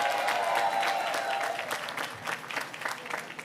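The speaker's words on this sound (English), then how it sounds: "Let's give them a round of applause as well." Applause for international dignitaries at an African Heritage reception hosted by the New York Mayor, a crowd clapping steadily and fairly loudly for a few seconds before it thins out.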